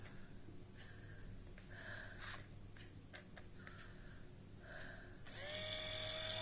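An electric facial massager with an attachment fitted starts buzzing near the end, a steady high-pitched whine that cuts in abruptly and carries on after earlier quiet handling and clicking sounds.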